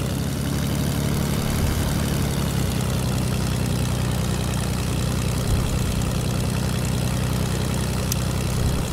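An airplane engine in a video game drones steadily and loudly throughout with a continuous low propeller hum and no breaks, and no talk over it.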